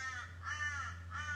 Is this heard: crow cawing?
yes